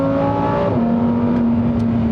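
A Lamborghini Huracán STO engine holds a loud, close, sustained rev, its tone dipping slightly in pitch partway through and then droning on steadily.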